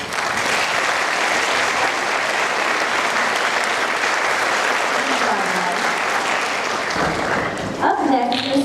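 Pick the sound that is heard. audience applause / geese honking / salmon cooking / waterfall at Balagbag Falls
audience applause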